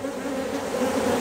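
Honey bees fill the brood chamber of a hive fitted with a removable vertical queen excluder, making a close, continuous, dense buzzing hum with no pauses.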